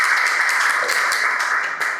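An audience claps at an Indonesian police K9 event, a dense, bright burst of many hands clapping together, loud and close, holding steady for a couple of seconds.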